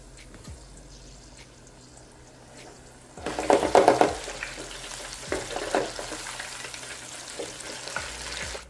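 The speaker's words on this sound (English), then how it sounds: "Once your grease is hot and ready," Quiet background gives way to a sudden loud sizzle as flour-coated chicken drops into hot grease, then a steady crackling deep fry continues.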